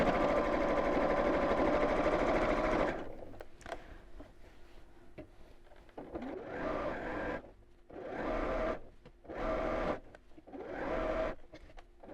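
A sewing machine stitches tote bag handles in place, running steadily up close at first and then continuing in shorter start-stop bursts with quiet gaps between them.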